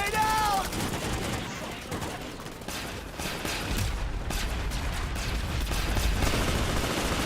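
Gunfire in a PS2 shooter video game, bursts of rapid shots and scattered reports over a busy battle backdrop, fairly dense and continuous, with a brief tonal game sound at the start.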